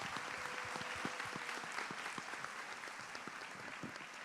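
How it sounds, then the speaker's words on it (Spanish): Continuous audience clapping for a student speaker at a school event, a steady crackle of many hands with a few sharper individual claps standing out, fairly faint and even throughout. "Un aplauso para Rocco."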